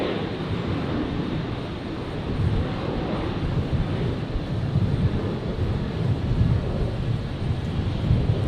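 A Virgin Australia airliner rolls for takeoff on runway 01 right at Brisbane Airport in a direct headwind, a broad steady jet roar with wind buffeting, heard from a distance and building slightly, no talk.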